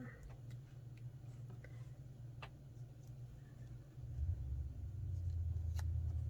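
A truck pulls up outside, its low engine rumble growing noticeably louder and closer partway through, with faint ticks and rustles nearby.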